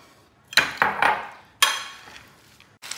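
A fresh green salad with lemon dressing is tossed in a bowl, giving a handful of close, sharp clinks and scrapes of utensils against the dish in an irregular rhythm, with no talking.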